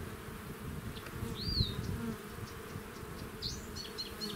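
Honey bees drone in a dense, steady hum at an open hive while a beekeeper moves them from one hive to another, with a few brief higher buzzes from single bees passing near.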